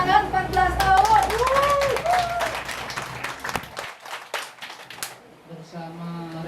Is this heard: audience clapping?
yes